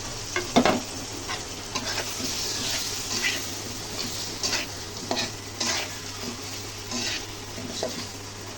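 Fish going into a wok of frying onion and garlic with salt and chili, a continuous sizzle with scraping stir strokes and a sharp splash of spitting oil near the start.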